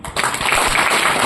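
Audience applause fills a hall at a business seminar, a dense, steady wash of many hands clapping close by after a brief quieter start.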